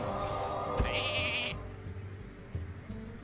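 A sheep bleat from a polymorph spell in the card game Hearthstone: one wavering nasal bleat near the start, followed by a softer stretch of game sounds and clicks.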